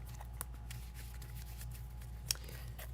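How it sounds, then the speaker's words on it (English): A deck of cards being shuffled quickly during a Vampire: The Eternal Struggle card game, a soft rapid riffle with a couple of sharp snaps, faint and close over a low steady hum, no voices. "That was the quickest shuffle in the West there."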